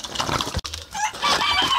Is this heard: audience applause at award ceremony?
no